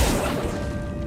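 An Accio spell effect in the video game Hogwarts Legacy: a dense, loud rushing swell with a steady tonal ring underneath, brief and continuous without any voice.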